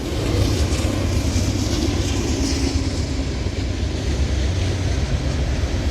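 A Norfolk Southern freight train hauling hopper cars rumbles steadily nearby at a crossing in Elyria, Ohio, with a continuous loud low roar and faint rail clatter and no talk.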